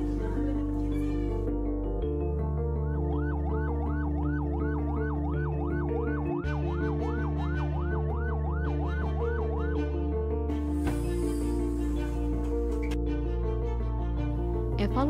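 An ambulance siren wails in a rapid, regular up-and-down pattern over a loud backdrop of music and sustained tones, then cuts out partway through as the background carries on.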